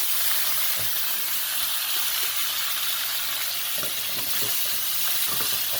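Large mutton pieces frying in a pot for Afghani Kabuli pulao make a dense, steady sizzle and hiss, with a few soft stirring knocks and no speech.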